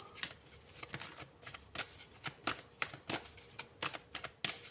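Cards are handled and drawn from a deck of reading cards, producing a series of crisp papery snaps and flicks in an uneven rhythm, close and fairly quiet.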